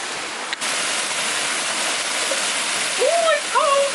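Steady roar of a waterfall at a cold wild swimming spot fills the scene, a loud continuous rush, with a brief voice rising over it near the end.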